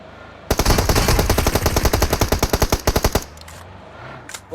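Rapid automatic gunfire from PUBG Mobile rattles off in a loud sustained burst of about twenty shots, followed by a couple of faint clicks and a last sharp report.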